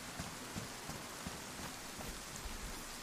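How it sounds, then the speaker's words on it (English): Steady rain falling, a soft, even hiss with scattered patters of drops, faint and with no voices. "That rain's going to be good for the pumpkins."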